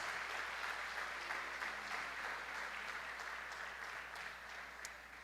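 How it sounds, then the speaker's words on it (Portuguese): Church congregation applauding during a worship service, sustained quiet clapping from a crowd that slowly fades toward the end. "Vamos aplaudir Jesus por isso?"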